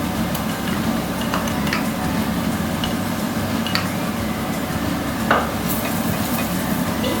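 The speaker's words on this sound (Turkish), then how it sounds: "İki dakika kadar da salçayla birlikte kavuracağım kıymayı." Minced meat fries with tomato paste in a pan, a loud, steady close sizzle with occasional scraping and ticking of a utensil stirring the mixture.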